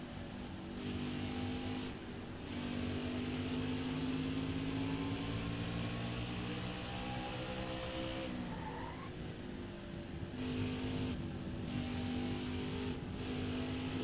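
Race car engine in the NASCAR Heat 5 video game at Richmond, a steady loud drone with sustained harmonic whine that shifts pitch as the car accelerates and lifts, with brief tire squeal, no talking.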